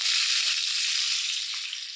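Chopped large onions hit hot oil with fennel seeds for a pepper chicken gravy, and a loud, steady, close sizzle hisses throughout.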